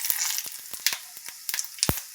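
Cinnamon, cloves, star anise and dry red chilli crackle in hot ghee and oil for a dal fry tempering, with close, irregular pops and spits over a soft sizzle and no voices.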